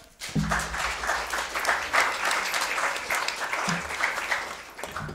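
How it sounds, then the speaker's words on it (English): A community forum audience gives a round of applause for the panelists, a dense, continuous clapping that stays steady for several seconds. "Give a round of applause for them."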